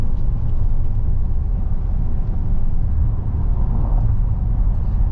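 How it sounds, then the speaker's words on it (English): A 2018 Ford Explorer Sport 4x4 engine pulls at highway speed, a steady low rumble and whir from inside the cabin with road noise blended in, constant and fairly loud without voices. "The engine's sounding good."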